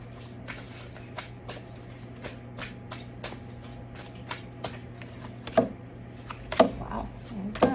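Tarot cards being shuffled by hand in a series of soft, regular riffling bursts, steady and close, with a few louder snaps near the end and no talk.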